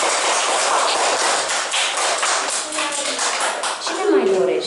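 Children and parents clap after a school Mother's Day play, a broad burst of applause at close range with voices mixed in and a high tone near the end.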